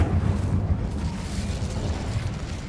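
Casting the Incendio fire spell in Hogwarts Legacy produces a dense, continuous whooshing roar with a low rumbling burst, loud and close, lasting a couple of seconds with no speech.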